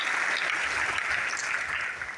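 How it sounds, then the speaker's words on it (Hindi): A seminar audience at a business plan meeting claps for a woman presenter, a brief burst of dense, even applause lasting about two seconds. "मैडम के बेहतरीन तालियां नितिशा जी के"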